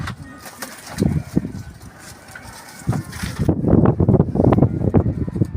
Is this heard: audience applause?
no